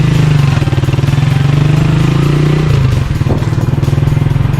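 A motorcycle engine runs close by on a mountain road, a loud steady chugging throb that shifts in pitch partway through and keeps pulsing to the end.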